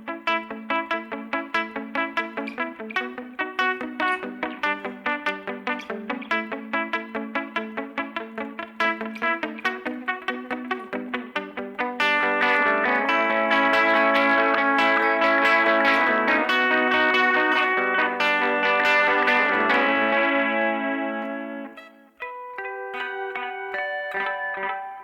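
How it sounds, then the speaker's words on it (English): An Epiphone electric guitar is played with a delay effect, starting with a run of picked single notes with trailing echoes, then fuller sustained chords and lines, loud and close with no talking. "So, got a little bit of a delay going on."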